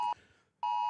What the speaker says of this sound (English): There's an alert. An alarm.